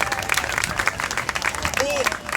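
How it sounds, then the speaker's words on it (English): Outdoor crowd applause at a political march rally, loud and continuous across the short stretch, with voices mixed into the clapping. "Round of applause."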